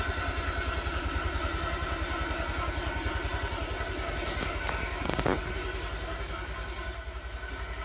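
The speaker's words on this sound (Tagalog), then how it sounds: "Painitin na natin yung ating motor mga bor." A motorcycle warming up at home before dawn, its engine idling with a steady, rapid low thumping pulse, close and continuous, with a brief clattering knock partway through.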